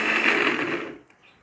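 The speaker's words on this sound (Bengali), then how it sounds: "এখন আমি এই ইনগ্রেডিয়েন্টসগুলোকে ভালোভাবে ব্লেন্ড করে নেব।" An electric blender whirs loudly and steadily, blending dates, milk and about two tablespoons of Horlicks into a milkshake, then stops abruptly about a second in, leaving near silence.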